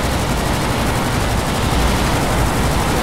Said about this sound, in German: Ich höre nur noch Plasma-Schüsse.